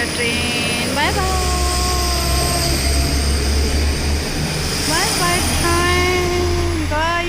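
A passenger train pulls away from a station in Cologne, Germany, its deep, steady rumble running underneath while high squealing and whining tones rise and fall over it; a person talks over the noise.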